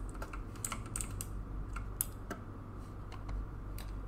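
Rapid clacking keystrokes on a computer keyboard during a Roblox shooter session, an irregular stream of sharp clicks, close and steady, with no voices over them.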